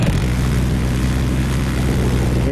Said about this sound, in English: Whoa, jet taking us out.